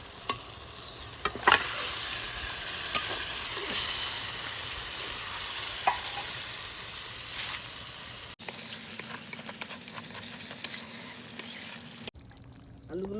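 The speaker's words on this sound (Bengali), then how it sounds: "মশলা মোটামুটি কষানো হয়ে গেছে, ভালোই তেল ছেড়ে গেছে। মাংসটা দিয়ে দিই ওর মধ্যে।" Chicken pieces fry and sizzle in an oily spice masala for chicken kosha, with steady close sizzling and scraping stirring strokes that are interrupted by a couple of abrupt cuts.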